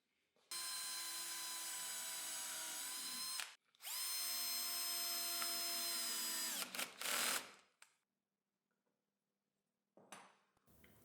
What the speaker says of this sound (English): and screw the base to the body